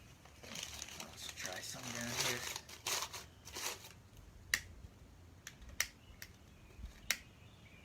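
Paper crinkles and crumples as it is added to a rocket stove fire outdoors, followed by scattered sharp crackles and snaps, with a person talking over the rustling.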